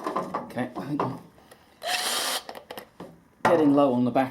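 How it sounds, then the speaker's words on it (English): A cordless drill whirs in a short burst between bits of talk while removing a sump plug, then a voice continues speaking over a second whirring burst in low gear. "I'm going to go into low gear on the drill now"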